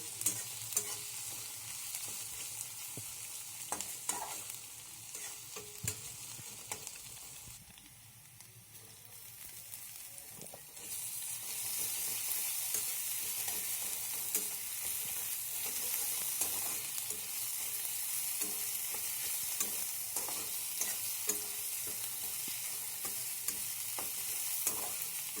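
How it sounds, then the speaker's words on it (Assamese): Chopped onions sizzling in oil in a pan as they brown, a continuous close crackle with frequent stirring scrapes, briefly quieter midway before the frying grows louder again. "ভালদৰে পিয়াজখিনি ভাজি ল'ব লাগে অলপ ৰঙচুৱাকৈ।"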